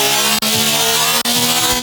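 Dubstep bass built from the Vital synth Future Riddim preset, a loud gritty sustained growl with rich buzzing harmonics, cut by two brief gaps, playing alone.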